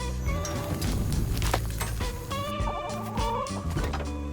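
Chickens cluck in the video game Rust as they hatch, several clucks and calls over a dense, busy game soundscape that stays loud throughout.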